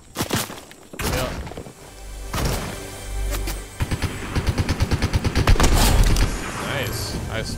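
Rapid gunfire in a zero-build Fortnite duo match, with a few heavy booms followed by a dense string of quick, evenly spaced shots that build in loudness, while players talk over the action.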